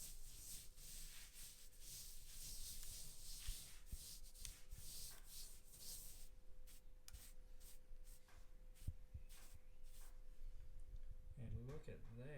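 Sponge lightly rubbing down the decorative coat of an 800mm pizza oven build, a continuous soft scratchy rasping in repeated strokes, close and faint.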